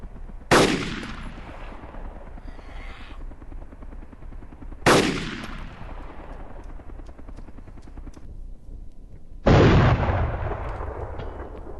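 CZ 550 sniper rifle shots in the DayZ video game: three loud, sharp reports spaced several seconds apart, each trailing off in a long echoing decay.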